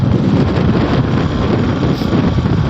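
Wind buffets the microphone on a motorbike ride through cool evening air, a constant low rushing roar filling the short stretch with no voices.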